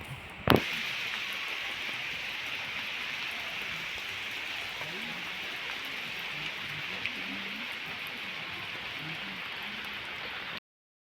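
Steady heavy rain falls for several seconds at Dandeli, a broad even hiss with a sharp knock near the start and faint voices low underneath.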